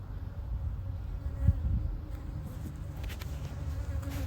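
Steady low humming drone of many honey bees buzzing together in an open hive, close and continuous, with a few faint clicks over the top.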